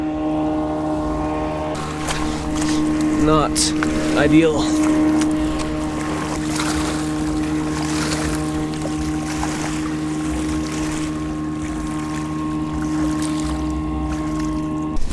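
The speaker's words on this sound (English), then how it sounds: "Here come the waves." Boat wake waves washing in along a river bank after a passing boat while catfish fishing, a steady low water-and-motor wash lasting throughout, with speech briefly over it near the start.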